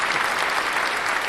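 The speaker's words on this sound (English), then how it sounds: "Can I get a bit of a clap for that" Audience applause at a live talk, a dense, steady wash of many hands clapping that fills the whole short stretch at an even loudness with no voices over it.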